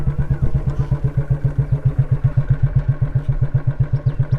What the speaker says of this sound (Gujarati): પ્રીતિને બાઇક ચલાવતા જોઈ